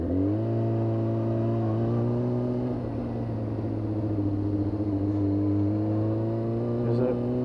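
A Yamaha YZF R6 motorcycle engine with a stuttering rev fault, running close by at low revs and settling to idle, a steady droning hum with a slight drop in pitch partway through.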